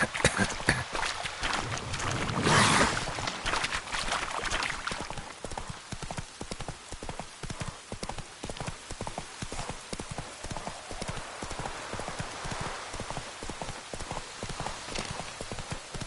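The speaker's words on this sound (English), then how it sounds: "Whoa there, Roach." Horse hooves clip-clop at a steady walking rhythm throughout a PS4 video game, close and continuous, with a brief louder burst of rustling near the start.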